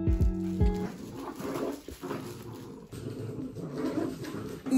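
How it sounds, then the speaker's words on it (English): Dogs playing and tussling over a toy indoors, with a few short yips near the start followed by scuffling, soft whimpers and low growly noises, moderately loud and close. "My dogs are playing."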